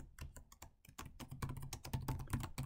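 Rapid typing on a computer keyboard, close and clear, with a steady rhythm of crisp individual key clicks and no talking.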